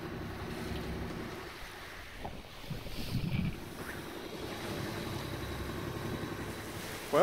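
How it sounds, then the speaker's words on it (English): A sailing yacht motors along under engine off the Portuguese coast, a steady low engine drone mixed with wash of waves and wind buffeting the microphone, continuous throughout with no voices. "Meanwhile, we're just motoring along."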